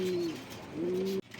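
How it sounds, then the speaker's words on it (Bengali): A pair of green racer pigeons, one male and one female, cooing in two long, clear calls, the second call ending abruptly, with no talk. "এখানে এক জোড়া সবজি রেসার কবুতর আছে, এটা হচ্ছে মাদি আর এটা হচ্ছে নর।"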